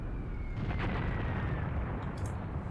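Artillery fire booms in the tank war game Tank Warfare: Tunisia 1943, with a deep rumbling blast and a few sharper pops rising over steady low battlefield noise.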